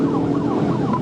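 A state trooper's police siren wailing, loud and continuous with rapid rising and falling yelp cycles over a steady vehicle rumble, heard close throughout.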